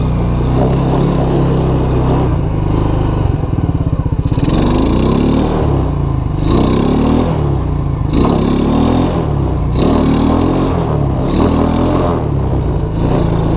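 A Suzuki King Quad 300 ATV engine with a sticking clutch runs loud and close, idling with rough throbbing and repeated revving surges, clunks and clatter as the clutch is worked, with no talk.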